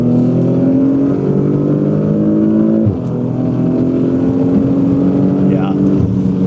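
Porsche Macan Turbo with the 2.9L V6 pulling hard in third gear while merging onto a highway, a steady rising engine drone heard from inside, with a brief dip around a shift or lift before climbing again.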